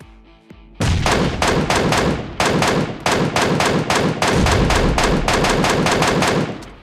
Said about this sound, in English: So we're going to start firing with the MK14 without the bipod.